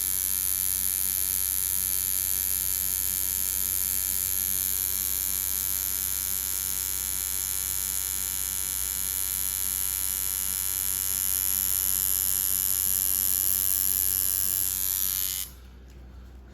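A tattoo machine drawing lines gives a steady, close electric buzz with a faint whine that holds evenly for about fifteen seconds, then cuts off abruptly, with no talking.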